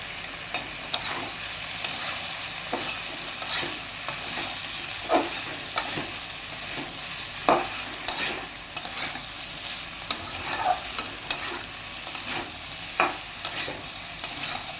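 Prawn curry with ash gourd and ridge gourd sizzles in a pan while a spatula stirs and scrapes it at irregular intervals, close and clear, with no one talking.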